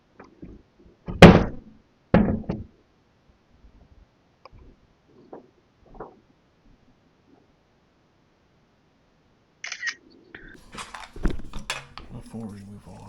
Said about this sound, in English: Alright, we're gonna shut this door here.